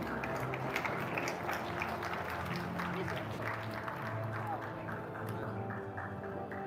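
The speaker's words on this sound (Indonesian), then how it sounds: "Mari kita berikan tepuk tangan." Audience applause at a discussion between a politician and Apindo, a steady wash of clapping from a crowd with murmured voices and talk mixed in throughout.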